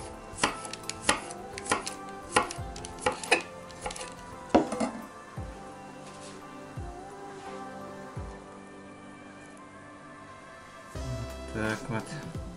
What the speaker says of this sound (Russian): Нарежем тоненькими ломтиками